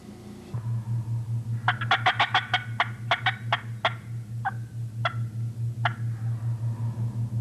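A wild turkey gobbles in a rapid rattling burst, followed by a few shorter scattered calls, all over a steady low engine-like hum.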